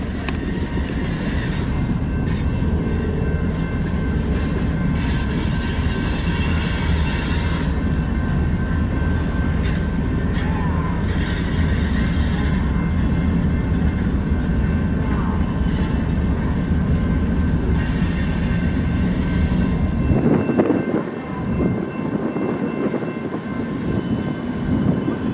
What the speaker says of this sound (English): this train now is heading east into the yard here